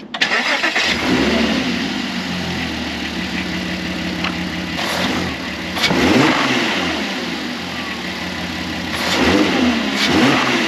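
A Porsche engine being serviced at home runs loud and close, with a steady idle broken by a few sharp revs that swell and fall back.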